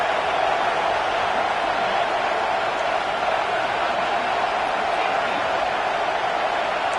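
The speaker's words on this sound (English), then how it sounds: "this home crowd is fired up and ready to make a difference" A home crowd at a football game makes a steady, loud roar of cheering that fills the whole stretch without a break, with no distinct voices standing out.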